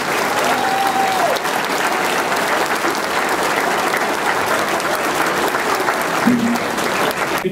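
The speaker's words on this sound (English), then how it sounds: "one more round of applause for our 2015 Silver Anniversary Team and inductees." A large crowd at a basketball Hall of Fame induction ceremony applauds a silver anniversary team and inductees, a loud, steady, close wall of clapping lasting throughout, with faint brief tones and no talk.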